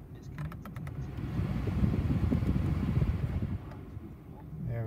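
A 2001 Volvo V40 estate with a 2.0 petrol engine idles with a low, steady rumble, fairly close, while faint radio chatter and a voice sit briefly over it.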